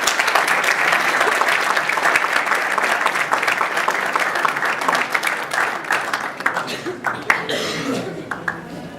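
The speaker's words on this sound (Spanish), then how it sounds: "damos un fuerte aplauso por esta gran interrogante" Loud, steady applause from a school audience, many hands clapping together for several seconds with a few coughs and murmurs, thinning out toward the end.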